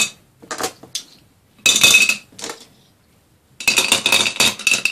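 Hard objects clatter and clink into a container in several bursts, a few scattered drops followed by two louder rattling pours, close by.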